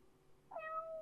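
A single short cat meow from the video game Steam Prison, rising clearly halfway through over a quiet room-tone background, close and fairly loud.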